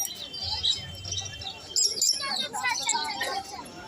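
Many caged birds, including sun conures, chirp and tweet in shrill overlapping calls at a pet bird seller's stall, while people talk nearby.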